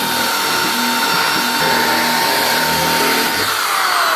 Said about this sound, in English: I switched over to a corded drill.